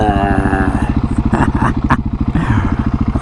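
A dirt bike rides along a road with a loud, close engine putting out a steady pulsing drone for the whole stretch, while faint clatter and a brief voice come through over it.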